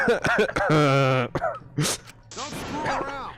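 A Danganronpa V3 character gives a short throat-clearing cough among voiced game dialogue sounds, close and brief, with speech-like vocal noises around it.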